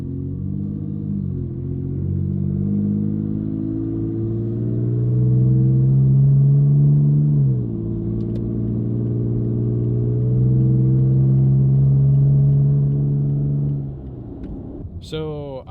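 Inside a Toyota Tacoma running with no exhaust at all, a loud, droning engine note rises and falls through gear changes while driving, heavy low rumble throughout before easing off near the end.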